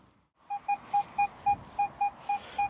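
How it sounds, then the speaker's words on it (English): A Minelab Manticore metal detector in a flooded, muddy UK field sounding a steady series of short, identical beeping tones, about nine evenly spaced pulses, clear and moderately loud over faint background. "this one certainly sounds like a coin"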